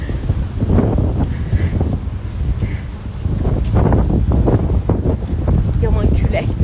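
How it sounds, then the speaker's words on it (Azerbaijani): Strong outdoor wind buffets the microphone in loud, continuous gusts, with a voice talking over it throughout. "Yaman küləkdir bura. Çox pis külək."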